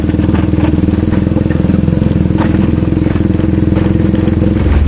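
A Bajaj Dominar motorcycle rides off-road near a river, its engine thrumming loud and steady close by, with clattering and thumps from the rough terrain throughout.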